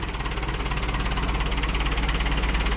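A Cummins 4BT diesel swapped into a Farmall M tractor idles steadily nearby, a loud, even knocking chug with a regular pulsing rhythm and no voices.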